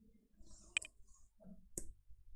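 Two or three sharp, isolated clicks of computer keyboard keys being pressed, close and fairly quiet, spaced about a second apart over faint room noise.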